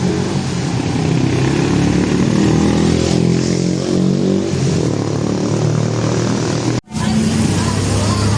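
Motorbikes ride along a Chinatown street, engines droning and revving steadily nearby amid busy street noise, with one brief cut near the end.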